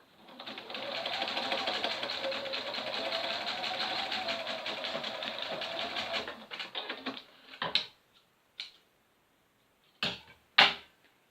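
A sewing machine runs in a steady, fast mechanical whir for about six seconds while stitching a fabric rag doll, then stops, followed by a few brief clicks and handling noises.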